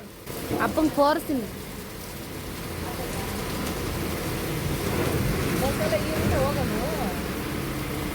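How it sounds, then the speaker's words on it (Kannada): Steady rain falls outdoors near a bus stand, a continuous hiss that fills the scene while voices talk briefly over it. "ಮಳೆ ಅಂತೂ ಬಿಡ್ಲೇ ಇಲ್ಲ"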